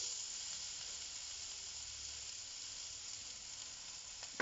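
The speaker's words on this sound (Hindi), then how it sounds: "इसको अच्छे से सॉट करते हुए 1 से 2 मिनट तक इसे फ्राई करें।" Spiced masala mixture sizzling steadily in a pan as it is sautéed before chopped ridge gourd (torai) goes in, a continuous close hiss with a faint clink near the end and no talking.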